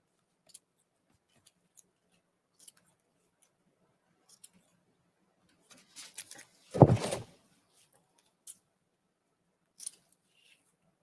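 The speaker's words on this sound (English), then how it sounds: "Need to grab some more ribbon, cut some more pieces." Scissors snip through ribbon with a few faint, scattered clicks, then one louder burst of cutting and rustling midway, followed by a couple more light snips in a quiet room.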